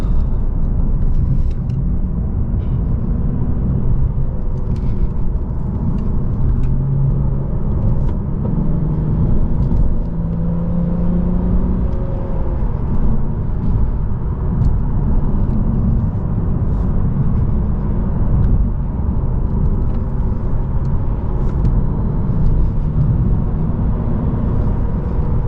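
2022 Lexus RC350 F Sport cruising along La Honda Road, Highway 84, on old tires, heard from inside as a steady, loud road and engine rumble that holds constant throughout with no talk.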